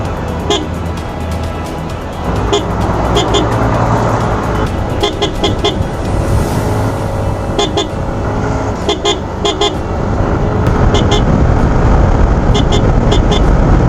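Hella and G-star compact car horns blare in loud, repeated bursts, some short toots and some longer blasts, over a constant low engine and road rumble.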